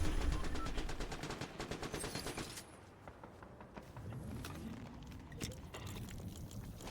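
Rapid automatic gunfire from a video game rattles in dense bursts for a couple of seconds, then gives way to quieter background game noise with occasional softer shots.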